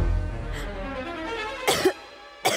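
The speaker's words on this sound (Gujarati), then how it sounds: "મને બહુ ઉધરસ આવે છે." An elderly woman coughs, two short harsh bursts spaced apart, close and fairly loud, with faint background sound between them.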